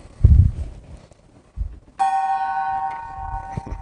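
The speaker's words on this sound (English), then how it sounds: "So let's start with the gong." A gong struck once to open an evening church service broadcast, ringing with a bright sustained tone that hangs and slowly fades, preceded by a few soft thumps and handling noises nearby.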